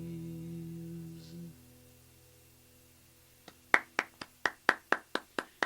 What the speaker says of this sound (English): I'm clapping for Mike